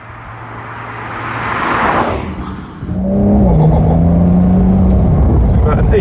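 A Porsche 992 Carrera 2S with a twin-turbo 3-litre flat-six fires up with a rising burst, then settles into a loud, steady engine drone with pitch shifts as it pulls away; voices are heard around it.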